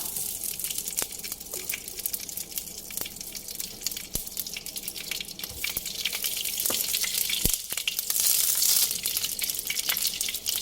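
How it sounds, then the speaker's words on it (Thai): Chili and garlic fry in hot oil in a wok for Thai drunken noodles with pork, giving a steady, close sizzle with scattered crackles and pops and no talking. "ผัดหรือว่าคั่วพริกกระเทียมจนส่งกลิ่นหอมนะคะ"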